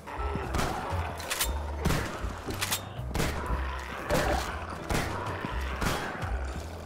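A shotgun fires in a Ravenholm-themed Half-Life 2 game, booming about nine times in quick but uneven succession, with echoing tails between the blasts.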